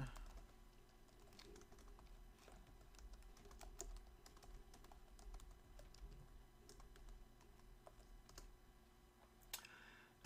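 Quiet, irregular clicking of keys on a computer keyboard, typed in short bursts at close range, with no talking.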